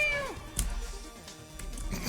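A person imitates a cat with a short, falling meow, close and clear at the start, followed by quieter background noise and faint clicks.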